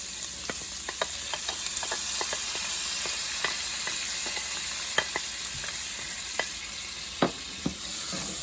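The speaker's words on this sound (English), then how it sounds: "And you're going to saute these. Just to where they're translucent." Celery, garlic and onions sauté in a pan with a steady sizzle and scattered clicks of a utensil stirring, close and moderately loud, with no one speaking.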